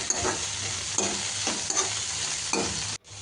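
Shepu (dill) greens stirred in a hot pan with chili and garlic, frying with a steady sizzle while a utensil scrapes in repeated strokes about every half second, close and alone, ending in a brief cut.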